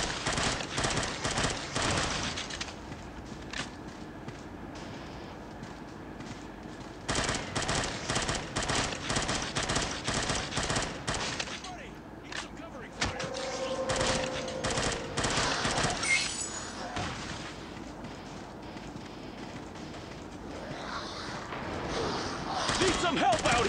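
Sustained bursts of rapid machine-gun fire in the shooter game Unkilled during a boss fight, dense and continuous with short pauses and scattered explosions, a voice talking at times.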